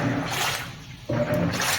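A washing machine draws water in through its inlet during a door lock error repair, giving a steady broadband rush and hiss that drops briefly to a softer trickle midway, then swells back to a full, close flow.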